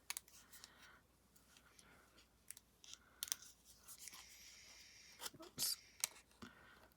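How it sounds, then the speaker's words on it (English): Scissors make a series of quick, small snips through craft paper, close and crisp, irregularly spaced, with some soft handling noises between cuts. "And just do little snips to get you where you need to be."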